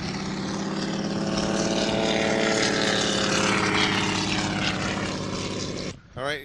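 Spitfire Mark 14 warbird with a Rolls-Royce Griffon V12 engine at a 1993 air show, giving a loud, steady propeller and engine roar that holds for about six seconds before cutting off abruptly, with a brief burst after.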